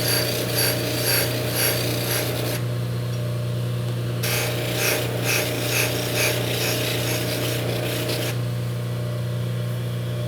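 A Baldor buffer hums steadily while a metal part is pressed against the wheel to deburr its holes, with a grinding, whirring contact sound that swells and fades in stretches.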